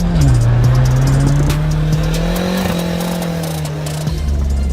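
A tuned Honda CRX Del Sol with 550cc Nismo injectors, its engine loud and close, pitch climbing and holding high under hard throttle with a squeal of tyres mixed in, no talking.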